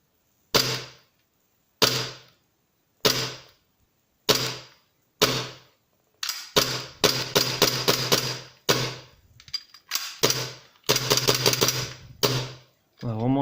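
A Glock 17 airsoft pistol fires with strong blowback, each shot a loud, close, sharp snap. Evenly spaced single shots give way to rapid, tightly packed bursts of firing.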